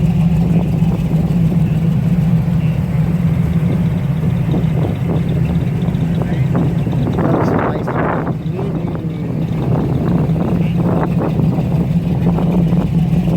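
A 1966 car with a 383 stroker engine drives onto a car club show field, its steady low engine rumble heavy and close, with wind buffeting the microphone and brief voices passing over it.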